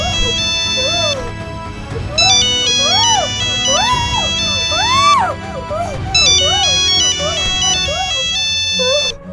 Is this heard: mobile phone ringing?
yes